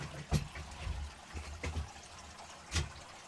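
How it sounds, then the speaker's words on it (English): Water running through a gold sluice box in a workshop, a low uneven rushing trickle with a few louder splashy surges. "Turn the sluice off because that's a little bit loud."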